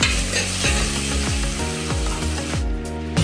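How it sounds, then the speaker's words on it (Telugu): Ginger garlic paste frying in a pan for a Hyderabadi mutton curry, a loud dense sizzle with regular scraping strokes of a spatula about every half second, close and with no voices. "అల్లం వెల్లుల్లి పేస్ట్ 2 టేబుల్ స్పూన్లు, బాగా ఫ్రై చేయాలండి"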